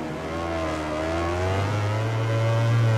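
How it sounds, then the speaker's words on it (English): Ducati MotoGP bike engine in MotoGP 20 on a wet Assen circuit, a loud continuous droning whine that climbs and shifts pitch, with a deeper rumble swelling in the second half as another engine closes in. "I can hear that Ducati"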